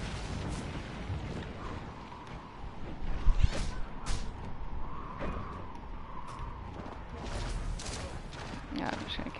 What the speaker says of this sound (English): Of course, they're shooting me.